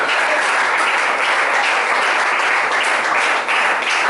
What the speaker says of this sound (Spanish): Bríndale un fuerte aplauso a Cristo en esta noche.